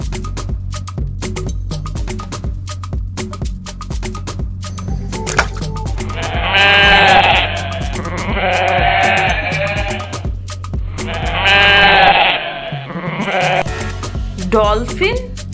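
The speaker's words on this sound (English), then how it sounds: "Goat." A goat bleats in two loud, wavering calls, each lasting about two seconds, over a steady low hum and clicking background noise.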